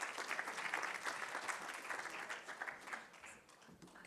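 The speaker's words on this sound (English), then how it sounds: "a rambunctious round of applause for Sekai Nyambo" A conference audience at an African construction law event applauds a speaker being welcomed to the stage, distant but full clapping that tapers off near the end.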